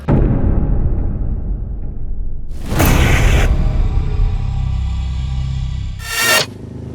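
A motorcycle engine rumbles loudly and continuously up close, broken by two sharp whooshing bursts as it revs or passes.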